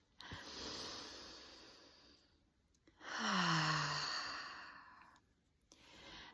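A person takes slow, deep breaths during a guided meditation: two long audible inhale-exhale sighs, close and soft, with a third breath starting at the end, no talking.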